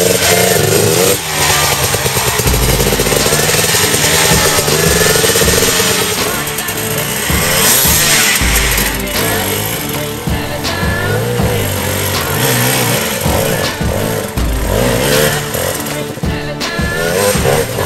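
A loud enduro motorcycle engine revs and roars continuously up close in Gornji Vakuf, Bosnia, its pitch rising and falling with repeated throttle blips.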